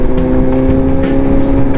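Motorcycle engine droning steadily while riding in light road traffic, a constant close mechanical hum with a strong low tone, no voices.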